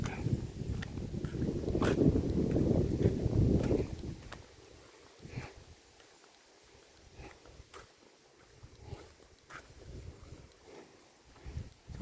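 Wind buffets a cliff-edge nature trail above a bamboo forest in Sai Thong National Park, Thailand. A loud, low rushing gust fills the first few seconds, then dies to a quiet breeze with faint scattered footstep-like ticks.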